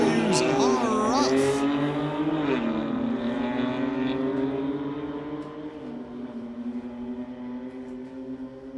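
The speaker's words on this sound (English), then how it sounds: "The tree's green, the BMWs are off." A 2022 BMW M4 and a 2021 BMW launch side by side in a street-legal drag race, loud engines revving high and shifting up through rising gear whines, then holding a steady roar as they pull away.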